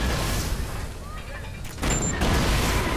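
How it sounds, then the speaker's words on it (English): Gunfire and explosions from grenades, a full-auto light machine gun and a hand cannon in the Watch Dogs online mode on PS4: a burst of loud booms and shots, a quieter stretch, then another blast, with a voice talking over them. "Yeah, by throwing random grenades."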